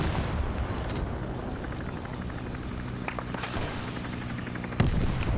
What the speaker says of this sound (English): That position got hit by a few rounds.